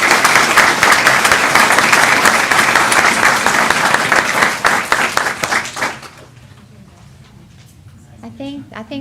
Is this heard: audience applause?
yes